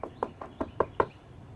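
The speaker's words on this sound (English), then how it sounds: "Someone knocks on the door." Six quick knocks rap in an even rhythm, close and distinct, simulating a door knock during dog training for a place command.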